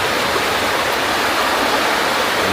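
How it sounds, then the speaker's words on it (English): A swollen creek in Oregon rushing during an atmospheric river rainstorm, a loud, close, unbroken roar of turbulent water with no voices. "But as you can hear, this water just ripped roaring this morning."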